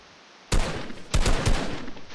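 Gunfire in a solo arena battle royale match, a sudden loud burst of rapid shots followed by a second volley of quick cracks, close and punchy after a quiet start.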